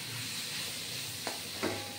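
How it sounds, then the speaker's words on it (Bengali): Soya chunks frying in a pan with onion, potato and spice mix, a steady soft sizzle throughout with two brief louder crackles, no voices. "সয়াবিনটাকে একটু ভাজলে খেতে ভালো লাগবে।"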